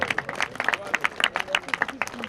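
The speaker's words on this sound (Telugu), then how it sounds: "క్లాప్స్ కొట్టాలి అందరూ." An audience clapping at a local news event in Ongole, a short burst of scattered, fairly close handclaps with a busy room murmur and voices underneath.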